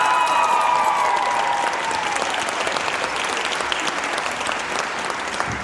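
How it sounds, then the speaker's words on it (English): Applause from a school jazz band concert audience for a student saxophone soloist, a full sustained round of clapping from a crowd, steady throughout with a fading sustained saxophone note at the start. "One more big round of applause, please,"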